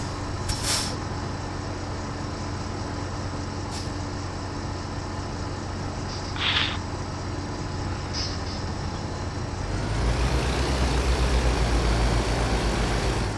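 A truck in a trucking video game drives and backs up into a trailer, its steady engine rumble running throughout with a few short hissing air-brake bursts, then the engine rising in a heavier drone near the end.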